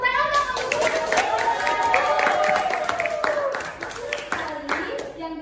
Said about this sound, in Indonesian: Wah, tepuk tangan dong.